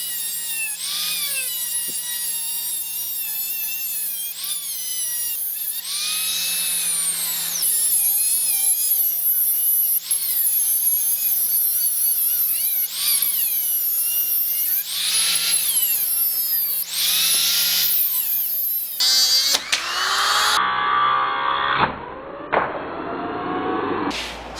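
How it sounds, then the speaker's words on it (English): A small rotary tool spins a cut-off wheel through intake manifold gasket material, a steady high whine that pitches up and down as the wheel bites. Near the end come harsher, rattly bursts as cutting pauses and resumes. "I got a little cut-off wheel to fit in the tools."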